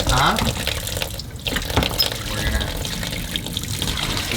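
Water runs steadily while a unit is washed out with the same water used to fill it, a continuous splashing rush with a brief voice in the middle.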